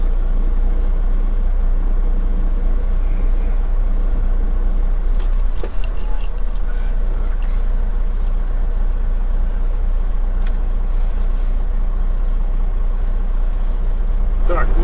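A truck pulling away with an empty trailer gives a continuous heavy diesel rumble with a brief air-brake hiss, and faint voices come and go underneath.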